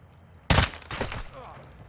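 Gunfire in the Call of Duty Modern Warfare II campaign: a loud burst of rapid shots opens the clip, followed by a second, weaker volley and fading echoes.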